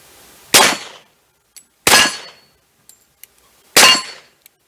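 Heavy 230-grain pistol slugs striking a swinging metal plate target, three loud sharp bangs evenly spaced about a second and a half apart, each ringing off with faint metallic pings between.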